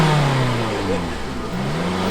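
A Honda Civic with a B20 engine build pulls up nearby, its engine note rising and falling as it revs briefly, with a steady mid-pitched drone beneath.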